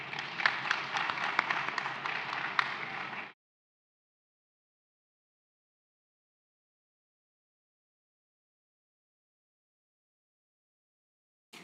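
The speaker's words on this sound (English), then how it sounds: "Give them a rousing round of applause" Summit audience applauding at an investment summit in Nasarawa State, a dense burst of clapping for about three seconds that stops abruptly, followed by long silence and a brief return at the very end.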